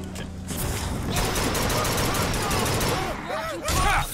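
Rocket fire in the video game Bioshock Infinite: loud, continuous rumbling blasts and rapid gunfire, with a brief whistling, warbling tone near the end and a player's voice mixed in.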